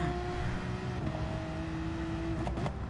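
A Lamborghini's engine drones steadily ahead in a racing video game at the Nürburgring, a continuous mid-loud motor whine with shifting pitch under a broad roar, with no talk.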